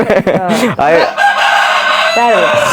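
A rooster crows loudly and close by in a Jaffna yard, a long strained cock-a-doodle call followed by a shorter second crow.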